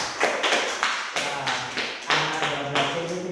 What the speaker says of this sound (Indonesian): Bagus, tepuk tangan Bapak Nala.